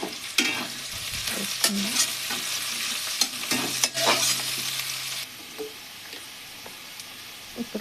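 Onions with dried red chilies and green chilies fry in a pan, sizzling while a spoon stirs and scrapes in quick bursts; the sizzle softens after a few seconds, and a voice speaks briefly.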